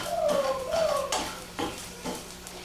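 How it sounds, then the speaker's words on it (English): Metal spatula scraping and clattering against a pan while breaking up scrambled eggs, a few distinct knocks and scrapes over a faint sizzle, close and moderately loud. "you get your spatula again, and you break up all the pieces"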